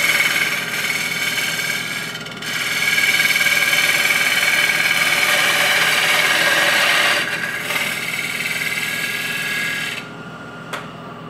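A light finishing cut on a wood lathe with a Hunter Viceroy tool: a steady, loud whirring scrape that dips briefly, carries on for several seconds, then drops away near the end, leaving one short tap.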